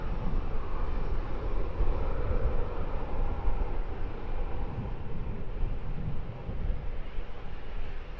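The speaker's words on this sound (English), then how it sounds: "Next EasyJet departure lining up off to Tivat. A320-200, this is flight number 2637." An EasyJet Airbus A320-200 bound for Tivat lines up for departure at an airport, its engines giving a steady, loud broadband roar that holds evenly throughout with no voices.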